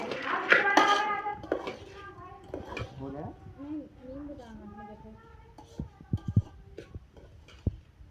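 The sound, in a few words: mixing puffed rice snack in a bowl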